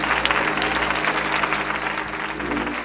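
A church congregation claps steadily and continuously, dense overlapping applause filling the room for the whole stretch.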